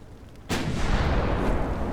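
A 9-inch naval gun fires in a naval battle game, a single sudden heavy boom that starts after a brief quiet moment and then rolls into a loud, sustained rumbling decay.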